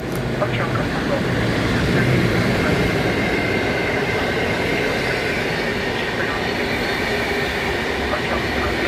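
An EP09 electric locomotive, number EP09-029, hauling the IC Koziołek intercity train rolls into Poznań Główny station. A loud, close, continuous rail rumble carries faint wheel squeals throughout.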